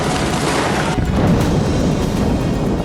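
A heavy, booming blast from a rocket attack on a military vehicle crashes loudly, then a rumbling roar lingers for a couple of seconds.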